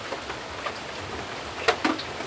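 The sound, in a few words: heavy rain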